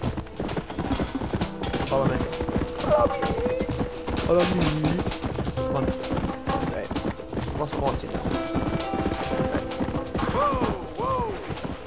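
Horse hooves clip-clopping in the video game Red Dead Redemption, a steady trotting rhythm close by with an occasional whinny and thuds, under repeated spoken lines from a game character.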